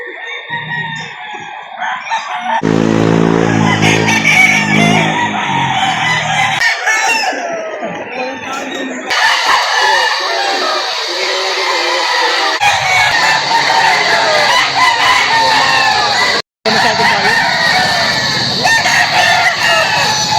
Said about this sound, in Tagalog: Mga ka-farmers, maraming manok po ngayon.